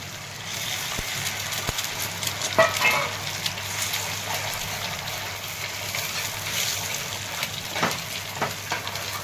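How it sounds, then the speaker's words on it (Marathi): Beaten eggs sizzle steadily in a hot pan with sautéed onions while making egg bhurji, a dense continuous frying hiss with occasional crackles, close and fairly loud with no talking. "तर आता हे अंडे फोडलेले टाकून घ्यायचे."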